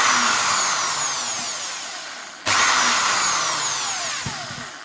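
A power drill whines as its bit bores through a base plate, in two close, loud bursts with the motor pitch sagging during each, separated by a brief pause.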